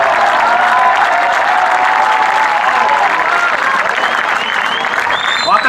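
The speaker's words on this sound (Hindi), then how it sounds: "इस तरह एक बार तालियां बजा दे मित्रों" Audience at a Hindi comic poetry gathering claps loudly and steadily for several seconds, a dense sustained wash of applause with faint voices and whistles threaded through it.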